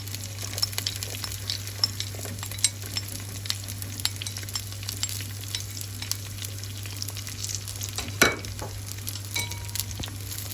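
Onions frying in a pan with salt, a steady close sizzle with scattered small pops and one louder crackle, over a low constant hum.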